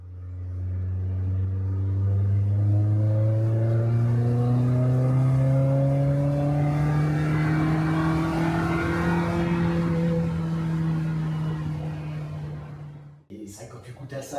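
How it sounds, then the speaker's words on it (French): A Renault Spider's mid-mounted engine accelerates in a long, loud, rising drone inside the car that climbs through the revs for about thirteen seconds before cutting off abruptly. "quand t'accélères, t'entends le moteur, t'entends même pas l'échappement, parce que c'est le moteur qui t'importe"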